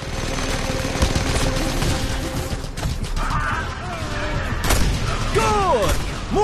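Mounted gun fire during a stronghold takeover in the video game Just Cause 2, with dense, continuous bursts and crashes in a busy battle mix, plus chirpy whistling effects toward the end.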